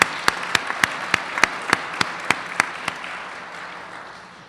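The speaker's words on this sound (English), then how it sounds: "So let's give them a round of applause." A Hall of Fame induction crowd applauds, a soft bed of clapping under a prominent, evenly paced run of sharp, loud claps near the microphone, about three per second, that stops partway through while the softer clapping fades.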